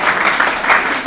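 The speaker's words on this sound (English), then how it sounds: "So give him a big round of applause, please." Brief, steady round of audience clapping at a Kashmiri American Alliance New Year celebration, loud and close, lasting about a second with no voices over it.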